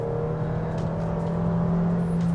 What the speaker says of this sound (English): the engine sound is a little struggling